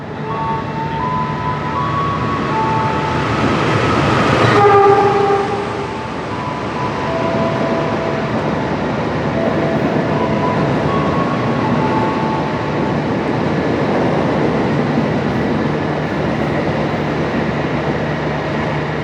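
An Indonesian passenger train, the Taksaka express, rumbles past continuously with a steady roar, swelling briefly to a louder peak early on before settling back into a sustained rolling drone.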